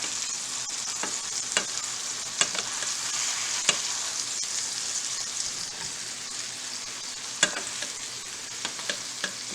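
Meatballs fry and brown in a pan with a continuous loud sizzle, crackling pops and occasional stirring clicks, with no talk.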